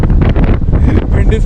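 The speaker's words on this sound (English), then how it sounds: "The wind is pushing me." Strong wind gusting across a microphone outdoors at a fairy tale park in Ireland, a loud continuous low roar and buffeting with no break.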